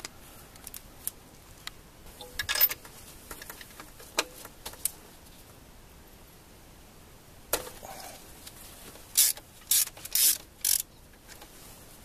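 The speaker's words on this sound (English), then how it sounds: "Remove all spark plugs by using a spark plug socket and long enough 3/8 extension drive with a ratchet." Ratchet on a 3/8 extension with a spark plug socket working spark plugs out of an engine, heard as quiet scattered clicks, scrapes and metallic taps, close by with no talking.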